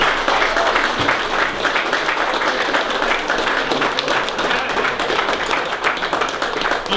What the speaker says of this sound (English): A massive round of applause for Jason.